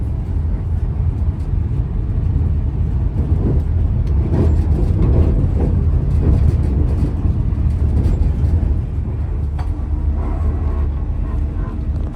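A loud, continuous rumble of a passing train with rolling wheel noise and clatter, sustained throughout.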